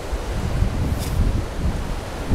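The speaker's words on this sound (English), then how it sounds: "Windy. Windy." Steady wind roars and buffets the microphone, a constant low rumble with gusty texture and no other sounds standing out.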